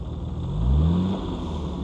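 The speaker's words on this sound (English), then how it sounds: "Starts right up. Beautiful idle." A 1964 Jaguar E-Type Series 1 roadster's 3.8L engine runs at idle, a low, fairly quiet rumble that swells briefly in the middle as it picks up, then settles back.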